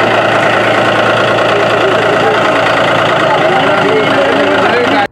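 A tractor engine idles loudly and steadily at a women's tractor-driving training session in Nellikuzhi, Kothamangalam, Kerala, with a throbbing, knocking drone. Indistinct voices sound over the engine, which cuts off abruptly at the very end.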